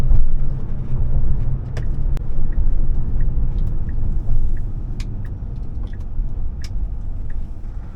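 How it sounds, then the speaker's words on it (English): Inside a moving used Tesla Model S, a steady low road rumble fills the cabin, with a few faint clicks and taps over the continuous drone. "The only thing you really hear is the road."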